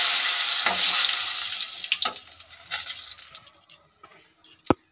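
Dried red chilies and cumin seeds crackle and sizzle loudly in hot oil. The hiss fades over a few seconds, leaving scattered pops and a final sharp clink.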